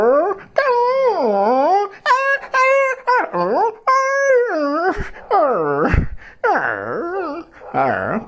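A mimicry artist imitates a dog inviting a guest, producing a string of loud, close whining howls and yips that rise and fall in pitch, broken by short pauses and a couple of sharp breaths.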